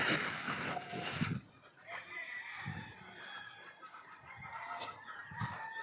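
Chickens and chicks in a brooder, with scattered clucks and a rooster-like crow heard at mid distance over a steady background hum.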